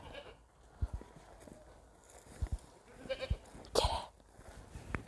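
A goat bleats once, a loud wavering cry near the end, among scattered thumps and rustling noises at close range.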